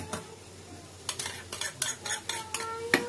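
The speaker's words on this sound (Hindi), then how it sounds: "और एक बार मैं अच्छे से इसको मिक्स कर दूंगी" Mutton kheema, Mumbai green style, stirred in a pan on the gas: a series of spoon scrapes and clinks against the metal, with a faint sizzle underneath, close and fairly loud.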